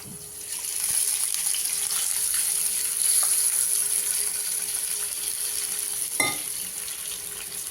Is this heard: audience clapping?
no